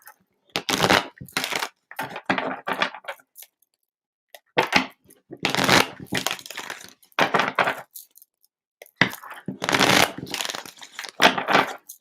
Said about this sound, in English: All right, Jasmine, let me get some clearing shuffles in.